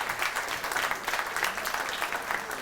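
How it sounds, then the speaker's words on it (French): Steady applause from a seated audience at a hospital foundation's 40th anniversary gala evening, a dense, even patter of many hands that holds at one level throughout without voices. "Bon applaudissement pour eux également."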